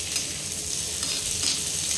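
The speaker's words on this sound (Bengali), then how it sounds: "পেঁয়াজটা একটু ভাজা ভাজা হয়ে যায়, তবে এটা হাই ফ্লেমে করবেন।" Chopped onions fry on a high flame for a chili soya chunks dish, giving a steady, close, bright sizzle. Occasional stirring scrapes sound through it, and no one speaks.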